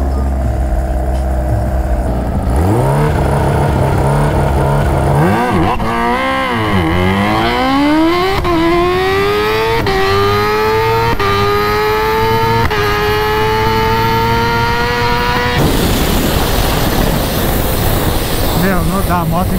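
Kawasaki Ninja H2 motorcycle launching hard down a drag strip in Itatiba, São Paulo, its engine rising loudly in pitch through several gear changes before a roaring burst of noise near the end, close and intense.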